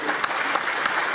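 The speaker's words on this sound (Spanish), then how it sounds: "Yo quisiera pedirles un aplauso, pero para ustedes" Seminar audience applauding at the end of a long day of presentations, a steady close burst of many hands clapping at once.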